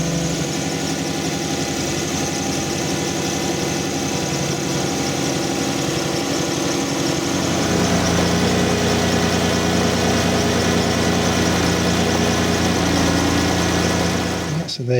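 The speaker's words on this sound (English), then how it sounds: "the engine of the car must be running" A Dodge Grand Caravan V6 engine idling steadily and close, a constant low hum that thickens slightly partway through, with no speech over it.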